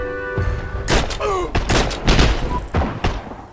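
Gunfire in the online shooter Heroes and Generals: a few sharp broadband shots and thuds, some spaced apart, heard close and loud over game ambience with a brief voice.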